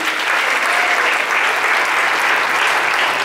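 A church congregation applauds steadily after a sermon line, a dense, loud wash of clapping sustained throughout without pause.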